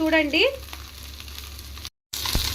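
Fish frying on a hot tawa, beach-style from Nellore, gives a steady close sizzle and crackle of oil, briefly broken by a short gap before the frying noise returns.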